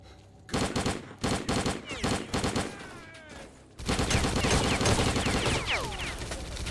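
A magazine is emptied in S.T.A.L.K.E.R. Clear Sky: rapid, close gunfire in separate short bursts at first, then a long continuous volley with ricochet-like whines. A voice talks faintly over it.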